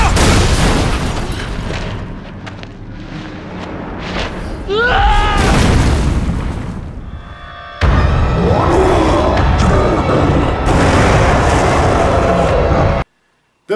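Turret gunfire and explosions from the Resident Evil 5 video game, a loud dense stretch of booming blasts and bursts with brief high screeches, cutting out abruptly near the end.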